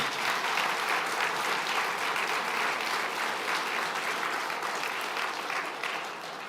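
Warm, sustained applause from a conference audience at the Global Ireland Summit 2025, thanking the MC, a dense, even roar of many hands clapping that holds steady and then begins to fade slightly at the end.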